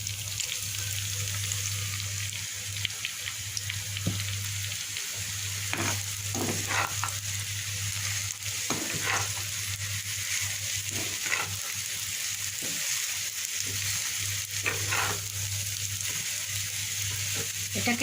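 Boiled khesari greens frying in mustard oil with onion, garlic and dried chillies, a continuous soft sizzle broken by repeated scraping stirs of a spatula against the pan, close and steady throughout.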